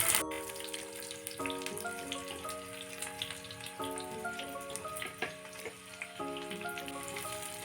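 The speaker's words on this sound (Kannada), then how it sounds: "ಸ್ವಲ್ಪ ಫ್ರೈ ಮಾಡ್ಕೊಳ್ಳೋಣ ಈರುಳ್ಳಿಯನ್ನು." Onions frying in a pan of ghee and oil give a steady, crackling sizzle throughout, heard beneath continuous background music.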